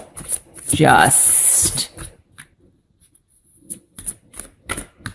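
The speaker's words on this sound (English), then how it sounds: "let's cut the cards here" A deck of tarot cards cut and shuffled during a reading, a close burst of riffling card noise followed by softer taps and light handling, with a brief word spoken.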